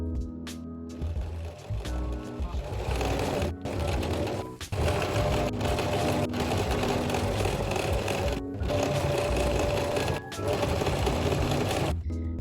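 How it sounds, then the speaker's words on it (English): Steady, fast mechanical whirring of a sewing machine top stitching fabric tunnels on an oversized 80s style vest, running continuously for several seconds with a few brief stops. "I'm top stitching the tunnels in place, and look how beautiful and crisp they look."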